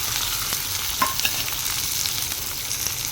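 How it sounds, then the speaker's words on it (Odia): Chopped onion, chili and tomato fry in a hot pan, giving a steady bright sizzle with a few soft stirring clicks, close and alone. "ମୋର ପିଆଜ ଲଙ୍କା ବିଲାତି କାଟି ଦେଇକି ଭାଜି ଦେଇକି"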